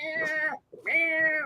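A domestic cat meows twice, loud and close, each call drawn out with a short silent pause between them, with no speech over it.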